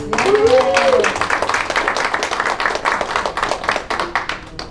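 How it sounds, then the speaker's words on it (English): A crowd claps in sustained applause, dense and lively, fading slightly toward the end, with a voice heard briefly at the start. "we give them a big round of applause for all of their achievements"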